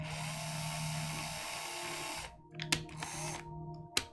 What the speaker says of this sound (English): Just a little more drill.